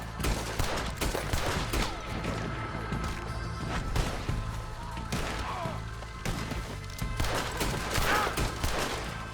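Dense bursts of gunfire and crashing impacts fill a film scene, rapid overlapping shots and smashes running continuously and loud throughout.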